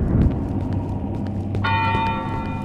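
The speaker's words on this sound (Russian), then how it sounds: "А, это вот колокольня." A church bell in a bell tower in the horror game Cry of Fear strikes once partway through. Its ringing tone sustains to the end over a low, rumbling ambient drone.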